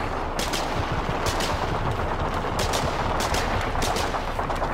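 Rapid bursts of gunfire aimed at an enemy bunker under construction in the war game Foxhole, loud and close, repeating in quick clusters over constant battlefield noise.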